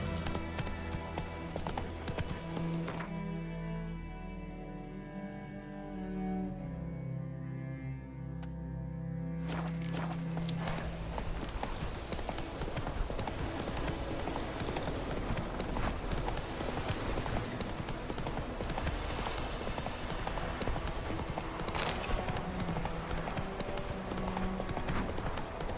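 A horse's hooves clip-clop steadily in The Witcher 3, an even rhythmic trot that runs throughout, close and clear over dense game ambience and background sound.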